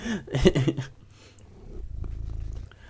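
A pet cat purrs close against a microphone, a low steady rumble that grows louder in the second half after a brief burst of talk-like sound at the start.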